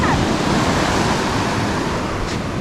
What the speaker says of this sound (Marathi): हे लाट आली बघ इकडे पाठी बघा